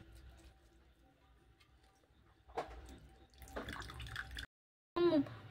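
Soaked flattened rice (chira) being strained, water draining and trickling into a mixing bowl, with intermittent splashy bursts and a short gap of silence before a final louder pour.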